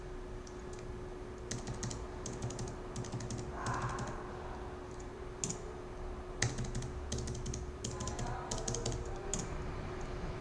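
A password being typed on a computer keyboard, with clusters of quick, crisp key clicks in irregular bursts and short pauses between them, close and fairly quiet over a faint steady hum; no one talks.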